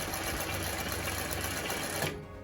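An industrial Singer 20U style sewing machine with a size 16 needle stitches embroidery, running steadily and loud up close for about two seconds, then stopping abruptly into a quiet hum.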